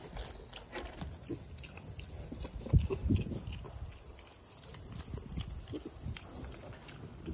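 Pigs on a farm eat a treat of soaked corn and day-old biscuits, with steady close grunting and chewing and a louder burst of snorting about midway.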